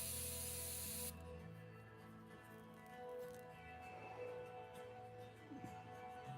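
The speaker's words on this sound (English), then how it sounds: "While I'm messing with my airbrush." An airbrush sprays paint onto a Spider-Gwen miniature in a short, close hissing burst of about a second, then cuts off to a faint background hum.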